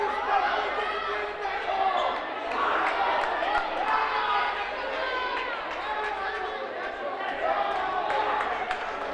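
Spectators at a girls high school basketball game between Lebanon and Hanover make a lively, continuous roar of cheering and chatter in a gym, with sneaker squeaks and rising swells as play moves along.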